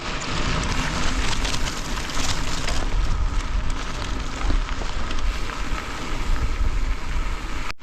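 Strong wind blowing into the microphone outdoors on a bikepacking ride in Portugal, a loud continuous buffeting roar with gusty surges and no speech.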